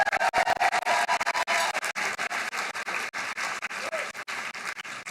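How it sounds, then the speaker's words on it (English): Audience applause at a Chamber Business Awards breakfast for the DJ: a dense, steady patter of many hands clapping throughout, fairly loud and close, with a faint voice surfacing briefly under it. "Please give a round of applause for our DJ this morning,"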